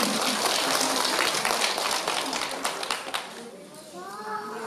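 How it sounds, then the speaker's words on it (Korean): A ceremony audience claps for an award recipient, dense applause that fades toward the end as a voice begins speaking over the tail. "박수 부탁드립니다."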